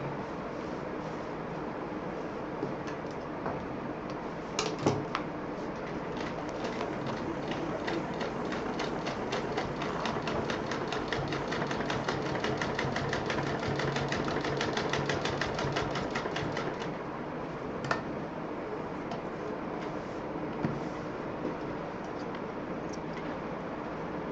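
Sewing machine stitching seams on a multi-utility bag, a steady mechanical whirring run of rapid needle strokes lasting most of the time, with a few louder clicks and a brief pause before stitching resumes, close and fairly loud.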